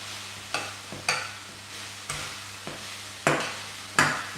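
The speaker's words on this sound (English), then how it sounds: "stir this around a little bit" Food being stirred in a pan while cooking Dutch baby pancakes, with a quiet low sizzle underneath and six distinct scraping strokes spaced irregularly, close and moderately loud.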